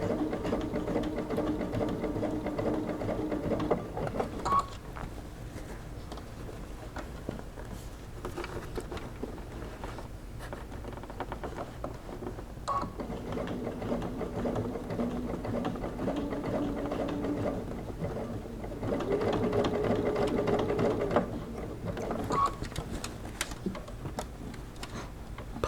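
A home sewing machine stitches fabric for a bucket hat in short bursts of rapid ticking with brief pauses between runs, close and moderately quiet.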